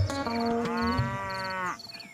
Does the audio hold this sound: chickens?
no